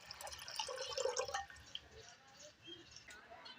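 Water being poured to fill an outdoor drinking bowl for rabbits and birds such as crows, a close splashing trickle loudest in the first second and a half, then softer dripping and sloshing.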